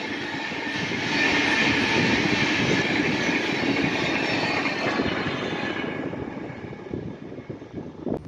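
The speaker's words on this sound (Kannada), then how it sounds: "ಸೊ ನಮ್ಮ ಪೂರ್ಣ express train number one one zero nine eight" Poorna Express train 11098 with new LHB coaches rolls past on its Ernakulam to Pune run, a loud, steady broadband roar of wheels and wagons that fades slightly toward the end, with no talk.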